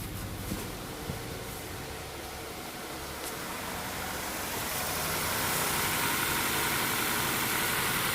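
A Nissan Sentra GXE with a slight cylinder-one misfire idles with a steady, close engine rumble and faint uneven shudder, growing gradually louder and fuller toward the end, with no talking.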